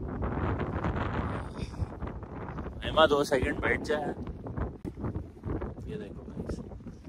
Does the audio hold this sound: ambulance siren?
no